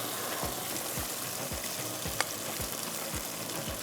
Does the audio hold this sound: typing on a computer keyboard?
no